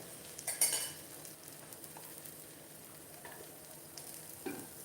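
A fenugreek leaf pudla cooks in a pan with a quiet, steady sizzle, broken by a few clinks and scrapes of a utensil against the pan, loudest near the start. No speech.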